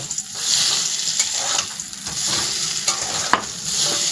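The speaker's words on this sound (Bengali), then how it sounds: "ওটা নেড়ে দিচ্ছি আলু ভাজাটা" Fried potatoes being turned in a pan on a gas stove, some pieces starting to char, give a continuous hissing sizzle broken by a few scraping stir strokes, close and fairly loud.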